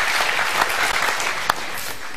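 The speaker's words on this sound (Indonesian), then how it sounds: "Kita berikan tepuk tangan sama-sama." Audience applause at a studio talk show, steady dense clapping from a crowd lasting the whole stretch with a brief sharper burst partway through.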